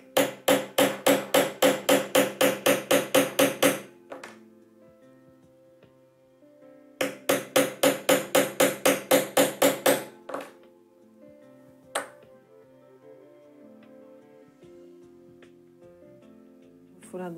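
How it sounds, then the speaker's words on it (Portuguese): A hole punch hammered through elastic for a concertina mini album, two bursts of about a dozen rapid sharp metallic strikes each, separated by quiet pauses with a few single taps. "Posicionei o furador e vou martelar."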